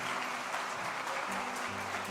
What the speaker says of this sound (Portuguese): Aplauda mais uma vez, Ele merece toda a honra